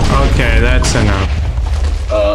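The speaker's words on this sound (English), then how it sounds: "Was that an explosion?" A Minecraft explosion goes off during a Warden encounter, a deep low rumbling boom that rolls on for a couple of seconds beneath overlapping chatter from several players.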